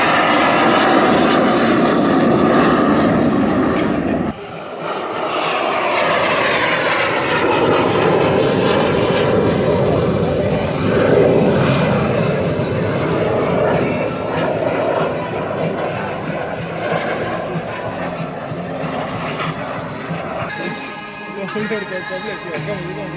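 A propeller airplane flies past at the CIAV 2018 air show in Varaždin, its loud engine droning steadily for the whole stretch with a brief dip near the start, while an announcer's voice carries over it.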